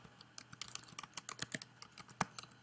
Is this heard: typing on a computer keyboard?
yes